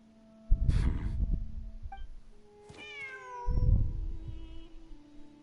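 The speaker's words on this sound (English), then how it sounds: "Wait, there it is! The cat!" A cat meowing in the Genshin Impact game during a Sumeru event: a couple of clear, rising meows, one short and one longer, between heavy thudding game sounds.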